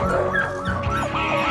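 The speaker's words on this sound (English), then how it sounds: "Oh, little dog." A small dog whimpers and lets out high yips in quick succession, close and fairly loud, its whines rising and falling.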